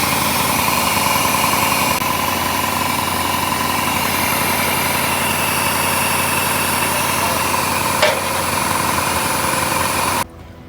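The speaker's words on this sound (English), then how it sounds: "It's running poorly, but we'll get it running." An OBS Ford dually truck engine runs roughly and steadily, a loud continuous idle with dense vibration and hum that cuts off abruptly near the end.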